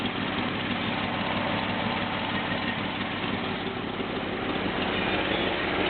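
A 1963 Ford F750 fire truck with a 332 cubic inch V8 idles steadily, a loud, even low rumble that holds unchanged throughout with no talking.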